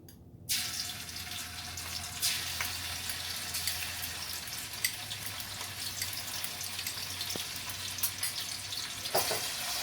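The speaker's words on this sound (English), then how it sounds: "let us begin by adding the 1 cup of oil. Bismillahir Rahmanir Rahim. And now in that we will add the ginger and the garlic paste." Ginger garlic paste frying in a cup of hot oil, a loud, steady crackling sizzle that runs unbroken throughout with a few faint clinks, and no voices.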